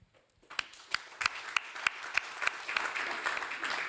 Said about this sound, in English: welcome him by a round of applause for him